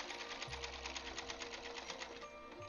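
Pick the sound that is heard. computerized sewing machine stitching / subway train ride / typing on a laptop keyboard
computerized sewing machine stitching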